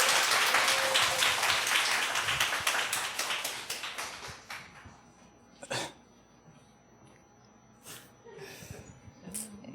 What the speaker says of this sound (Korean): 여러분이 따뜻하게 박수로 맞이해 주시기 바랍니다